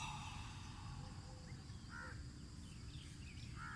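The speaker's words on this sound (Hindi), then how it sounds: "ये कोयल की आवाज़, ये फाख्ता की आवाज़" Birds calling outdoors, with koel and dove named, heard as a few faint, distant calls over a steady background hiss and low rumble.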